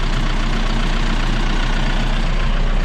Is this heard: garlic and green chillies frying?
no